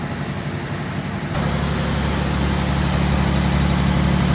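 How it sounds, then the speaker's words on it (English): A 1949 DeSoto convertible engine idles steadily and close, a low even rumble that steps up slightly in loudness partway through and then holds smooth with no talk. "Engine sounds good, no signs of smoke or no sputtering onto the floor."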